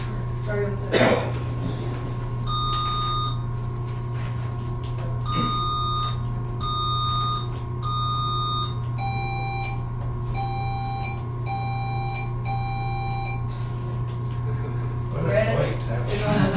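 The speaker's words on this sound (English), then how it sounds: "Should we test the buzzer?" A quiz-game buzzer being tested sounds as several short runs of bright, repeated electronic beeps at moderate loudness, set over a steady low room hum with a few people talking and moving nearby.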